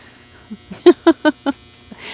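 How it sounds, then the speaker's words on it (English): A clothes dryer buzzer goes off indoors in a run of about five short, loud, evenly spaced buzzing pulses, with fainter blips before and after. "my dryer is going off. Are you able to hear me over that buzzing?"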